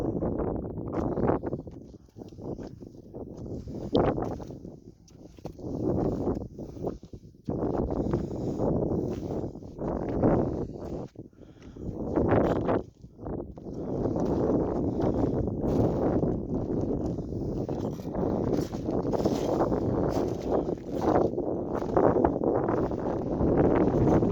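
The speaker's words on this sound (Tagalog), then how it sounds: "Mahangin talaga mga ka-idol." Strong wind buffeting the microphone outdoors on a rocky hilltop, gusting in loud rumbling bursts that swell and drop before settling into a steady roar.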